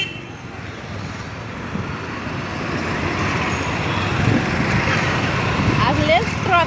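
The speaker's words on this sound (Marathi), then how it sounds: "थांबा गाड्या येत आहे" Road traffic rumbles past a street market, with engines swelling louder toward the end as vehicles go by nearby, and people talking over the steady roar.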